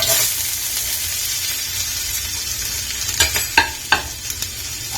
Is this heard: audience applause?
no